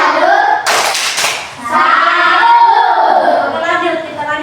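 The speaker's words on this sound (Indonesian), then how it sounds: "Kita beri tepuk salut buat Aga dengan Kesya" A class of children claps a rhythmic salute for two classmates in a lesson, a short burst of hand claps followed by children chanting together.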